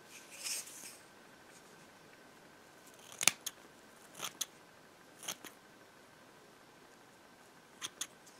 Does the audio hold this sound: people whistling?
no